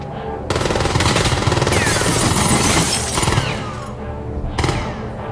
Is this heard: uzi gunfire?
yes